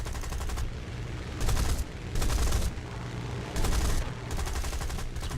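Spitfire machine guns fire in three loud rapid bursts over a steady aircraft engine drone in the War Thunder video game.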